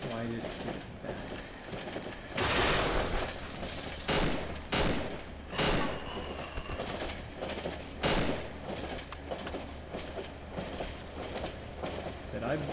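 Bursts of machine gun fire in the horror game Cry of Fear, rattling in a few loud rapid volleys between quieter stretches, with a voice talking over parts of it.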